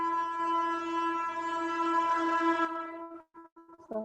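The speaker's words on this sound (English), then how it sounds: "sorry, that's a train." Passing train sounding a long, loud, steady horn blast for almost three seconds, then a few short broken horn notes as it fades and returns.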